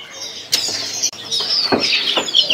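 Many small local East Javan songbirds chirping and calling together at a crowded market bird kiosk, a dense, bright chorus of overlapping tweets with a few sharper calls, close and continuous.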